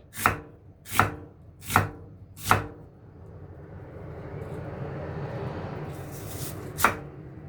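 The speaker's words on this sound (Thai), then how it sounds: "จากนั้นก็หอมหัวใหญ่ ซอยเล็กๆ เอาเล็กๆเลยนะคะ ซอยเล็กๆเลย" Four evenly spaced knife chops on a board as an onion is finely chopped, then a quiet pause with low background rumble, and one last chop near the end.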